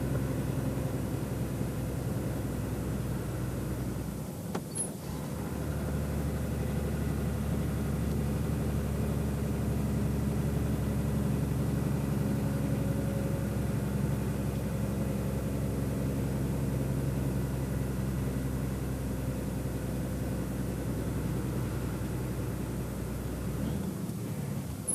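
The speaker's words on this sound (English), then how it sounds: "Sven knows that the engine keeps pulling well below 1500 revs" Scania truck engine pulling at low revs, a steady deep droning hum held evenly throughout, with faint cab noise and a couple of brief low thumps.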